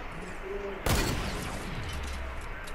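Mounted turret fire in Fortnite: Battle Royale, a sudden loud blast followed by a descending whooshing tail and low rumble, heard once amid quieter game ambience.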